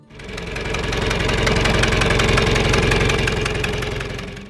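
A John Deere 3020 tractor engine runs steadily nearby with a loud, rhythmic knocking putter that fades in and swells before easing slightly at the end.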